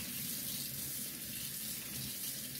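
Cold tap water running steadily into a sink while orchid roots are washed under it, a close, continuous hiss and splash with no speech.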